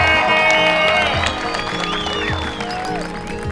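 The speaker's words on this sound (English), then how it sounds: "Give them a round of applause," Guests at a backyard wedding at a Palm Springs estate applaud the couple, a crowd's steady clapping mixed with cheers and excited voices, loud at first and then easing slightly.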